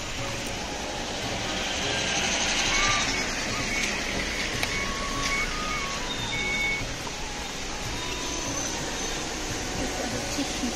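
Mahindra Bolero driving along a rough mountain road on the way to Kedarnath, its steady engine and road rumble running throughout with high whining and faint beeping tones over a continuous broadband noise.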